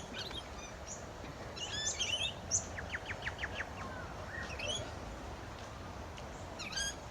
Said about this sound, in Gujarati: પક્ષીનો બોલવાનો અવાજ આવે.